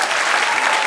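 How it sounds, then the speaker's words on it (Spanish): A church congregation claps for the Lord during a Spanish-language sermon, a loud, dense, continuous burst of applause filling the whole moment. "¡Dale aplauso al Señor!"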